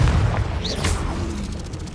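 A Confringo spell explosion in the Hogwarts Legacy video game gives a short, dense booming burst amid continuous game noise, loud and close.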